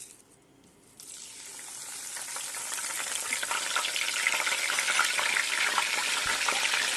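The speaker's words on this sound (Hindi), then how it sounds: "ऑयल को हमने गरम कर लिया है। अब हम इसमें कड़ी पत्ता शामिल करेंगे बघार लगाने के लिए।" Curry leaves hit hot oil for a kadhi tempering, bursting into a loud, steady sizzle after a quiet first second and growing more intense, with crackling spatter throughout and no talk.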